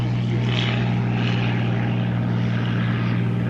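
A propeller aircraft engine drones at the Shuttleworth Collection airfield, a steady, loud, rumbling hum with a slowly shifting buzz throughout, with no talking over it.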